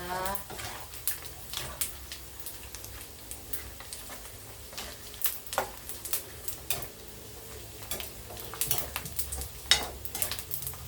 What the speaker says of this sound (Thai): นี่เป็นการทอดรอบสองนะคะ